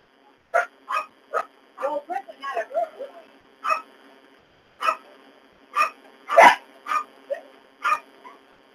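Dogs bark in a series of short, sharp barks and yips, several overlapping in quick bursts with brief pauses, fairly close and loud, with no talking.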